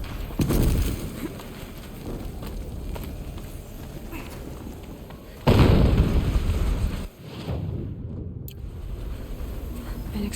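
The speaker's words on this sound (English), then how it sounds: "An explosion." An explosion in the game Horizon Zero Dawn, a single loud, sharp blast near the middle that rumbles for over a second before cutting off, with softer thuds and ambient noise around it.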